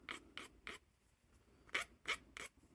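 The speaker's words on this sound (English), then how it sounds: "So all I'm doing is filing down that rough edge." A hand file rasps across the rough edge of a small UV resin keychain in short, quiet strokes: three strokes, a pause, then three more, close and clear with no talking.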